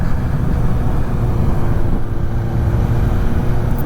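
A Suzuki GSX-S750 AL9 motorcycle engine runs at a steady, low drone on the road near Warnell Fell and Uldale, mixed with heavy wind rush and no clear rev changes.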